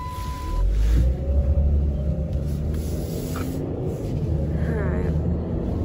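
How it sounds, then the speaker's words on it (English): A big semi truck rolls past on the road with a deep, steady engine rumble that swells early and then holds at a fairly close, moderately loud level. "Big truck coming, look like fast."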